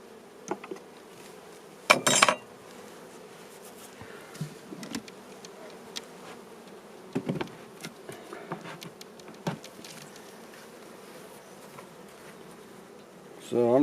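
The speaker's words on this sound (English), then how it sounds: "I'm going to shake some bees down" Honey bees buzz steadily at an open hive in a low continuous drone, with occasional clicks and knocks of hive frames and equipment and a sharper rattle near the start.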